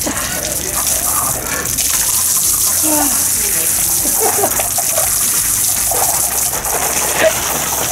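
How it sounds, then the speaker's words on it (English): A garden hose sprays water onto a person during a backyard slip-and-slide game, a steady loud gushing rush that runs the whole time with voices talking over it. "We gotta hose him up."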